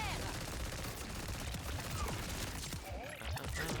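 Rapid continuous gunfire in the video game Borderlands 4, a dense unbroken stream of shots with a brief dip near the end, moderately loud and close, with faint voices mixed underneath.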